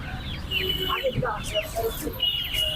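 Bright, high chirping calls from ducklings, repeated in quick clusters with some background murmur.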